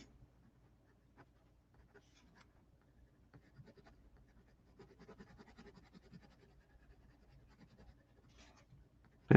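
A pencil drawing on paper gives faint, soft scratching and scribbling strokes in irregular bursts, quiet and close, ending in a sudden louder knock.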